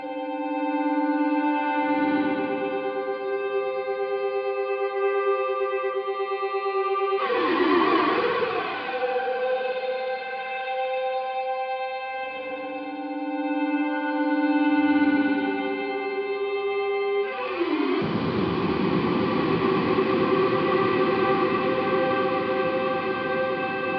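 Ambient pads from a Chase Bliss MOOD guitar pedal, sustained layered harmonic drones that swell and shift in two long phrases, each with a smeared, pitch-bending transition before settling into a rich, steady chord.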